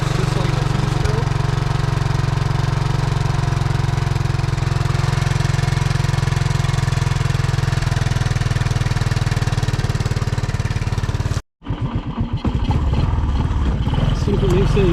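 A worn Honda 185S three-wheeler engine with two-stroke-like smoke runs steadily at idle, a loud continuous rumble that cuts out for a moment near the end, then comes back rougher under a voice.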